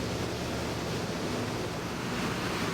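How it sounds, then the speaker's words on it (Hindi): Boat bouncing across open ocean waves off Dar es Salaam, Tanzania: a continuous broad rush of water and wind, dense and steady, close and loud, with no talk. "पानी की सतह पर उछाल लेती हुई नौका आगे बढ़ रही है।"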